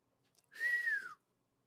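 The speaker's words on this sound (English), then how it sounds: "I can't whistle with this thing in my mouth like I used to be able to." A single short whistled note, rising slightly then falling, clear and close, with silence before and after.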